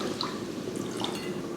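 Water pours from a jug into rice in a cooking pot, a brief soft splashing and trickling, fairly faint and steady, with no talking.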